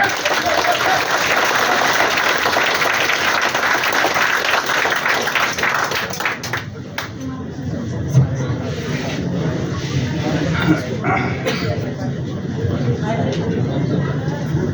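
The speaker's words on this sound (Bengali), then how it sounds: "জোরে একটা তালি দাও।" A crowd at a health talk about diabetes and cancer claps loudly in a dense, sustained burst for several seconds, then the applause thins into scattered claps and murmuring chatter in a large room.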